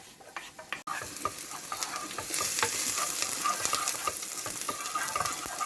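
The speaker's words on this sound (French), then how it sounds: "L'huile bien chaude, je vais mettre les oignons." Chopped onions tipped into hot olive oil in a pan, opening with a few handling knocks and then bursting into a steady, bright sizzle that carries on close and without any voice.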